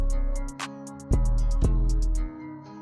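A slowed, halftime beat with heavy sustained bass, two big snare-like hits and sparse clicky hats on top; no voices.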